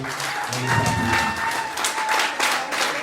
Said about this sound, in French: Mesdames, Messieurs, on les applaudit.